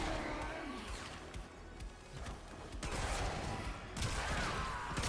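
Rapid bursts of gunfire from the video game Warframe crackle continuously amid chaotic noise and cries, with louder volleys toward the end.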